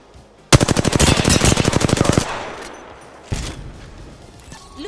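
Rapid automatic gunfire in Apex Legends, a loud burst of around twenty evenly spaced shots lasting under two seconds, followed by a fading echo and one more single heavy shot.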